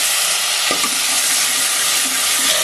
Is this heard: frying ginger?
yes